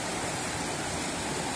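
The Cikamiri river in Sukajaya flows with a steady, broadband rushing hiss, constant and close, with no voices over it.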